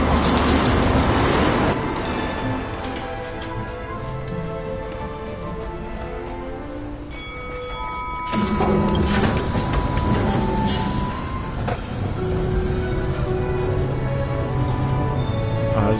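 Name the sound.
tram arriving and running in video game Syberia: The World Before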